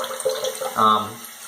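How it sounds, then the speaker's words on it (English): Cold water at a bathroom sink splashed onto the face, with running tap water and a couple of close splashes and wet slaps, brief and moderately loud. "use some cold water. Just to splash that on."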